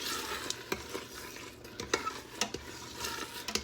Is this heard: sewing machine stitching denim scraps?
no